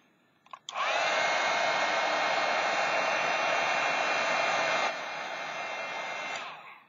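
A heat tool blowing steadily on craft material for ornaments and gift tags, a loud constant whooshing roar that starts after a click, drops slightly in level partway through, then cuts off.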